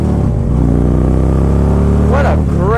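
A 2009 motorcycle with a 96 cubic inch engine rumbles steadily and loudly throughout, with a brief rising rev near the end, heard under a voice.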